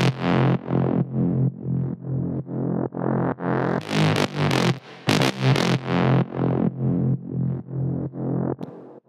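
Reversed techno bass line used as a synth fill in a drop, pulsing in a steady rhythm of swelling chords, loud and alone with no voices.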